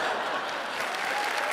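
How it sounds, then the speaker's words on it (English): Studio audience applauding steadily at a Penn & Teller magic competition show, dense clapping held at even loudness throughout. "That gets applause?"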